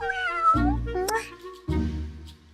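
A cat gives two clear, close meows, each a drawn-out, falling cry, with a soft human voice between them.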